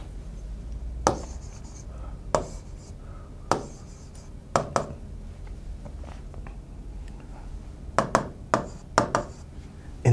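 Sharp, scattered taps and scratches of writing on a board mark a chemistry problem being worked out, coming in irregular bursts near the microphone over faint room noise.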